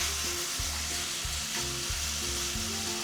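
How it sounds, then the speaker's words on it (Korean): Meat stir-fries in a pan as water and fat cook out, making a loud, continuous close sizzle with repeated knocking stirs and no talking. "이렇게 고기를 볶다 보면 고기에서 수분과 기름이 이렇게 나와요. 이렇게 자글자글 소리가 나거든요."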